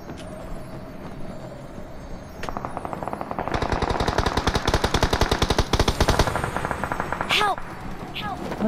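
Rapid bursts of automatic gunfire in PUBG Mobile rattle loudly, with a steady fast rhythm building and then trailing off, sharp electronic effects scattered through.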